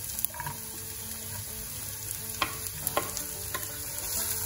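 Garlic, ginger and onion fry in hot oil with a continuous close sizzle, broken by a few sharp clicks and scrapes of stirring.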